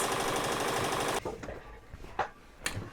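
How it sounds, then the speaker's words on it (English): Sewing machine stitching boxy bags in an embroidery shop, a steady rapid mechanical whir for about a second before stopping abruptly, followed by quieter handling clicks and rustles. "I'm gonna head back over to the sewing machine so I can knock the rest of these bags out"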